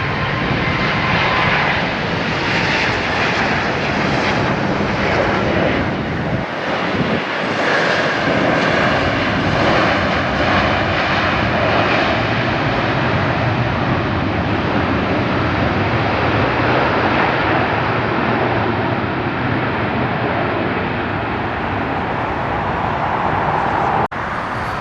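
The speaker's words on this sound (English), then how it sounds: "Here comes 751 AN. Domestic 777 service from Charlotte." A Boeing 777 airliner on domestic service from Charlotte landing at LAX during reverse operations, a loud continuous jet engine roar that swells and holds for the whole pass.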